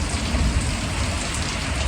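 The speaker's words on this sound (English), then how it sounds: "We just don't normally get this much rain or this much wind." Heavy rain pours down on a rural homestead during Hurricane Helene, a dense, loud, unbroken hiss of drops drumming on surfaces with no voices heard.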